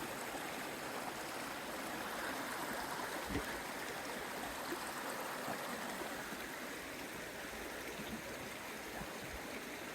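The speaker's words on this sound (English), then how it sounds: "The noise of the water drowns out any other sound" A river rushes steadily past, a broad unbroken wash of flowing water that stays constant from start to finish with no other sounds standing out.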